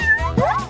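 A pet cat meows a single time close by, a short, clear call rising and then falling in pitch.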